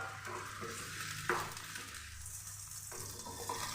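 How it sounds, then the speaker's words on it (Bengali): Garlic, dried chilli and chopped onion fry in mustard oil in a wok, giving a soft steady sizzle with a few stirring scrapes, faint and close with no talk. "এটি আমি লাল করে ভেজে নিচ্ছি"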